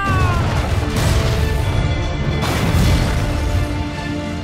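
Booming cannon fire and crashing impacts in an Assassin's Creed 4 pirate naval battle, a loud dense barrage that swells twice, with heavy low rumble under a layered score and sound effects.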